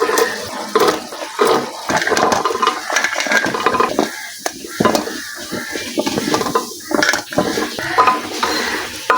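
Potatoes and jackfruit seeds being stirred in a pan with ginger and garlic, close-up scraping and clattering of a spatula against the metal in irregular strokes over a soft sizzle.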